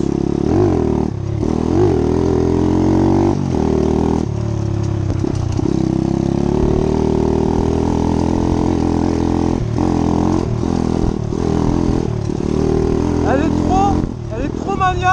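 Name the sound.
motorcycle riding on dirt trail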